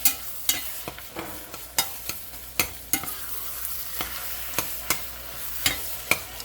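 Ground meat frying in a small pan alongside onions while a utensil chops and scrapes through it, sharp clacks every half second or so over a soft steady sizzle, close up with no talking.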